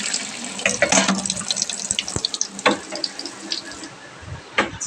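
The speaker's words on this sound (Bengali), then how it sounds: "কাঁচা চিকেন। এবার এটাকে ধুয়ে নেব।" Kitchen tap water runs steadily into a sink while about 300 grams of raw chicken is washed, splashing and shifting under the stream with occasional clatter, close and fairly loud, no voices.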